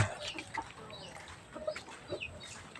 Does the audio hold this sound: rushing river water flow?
no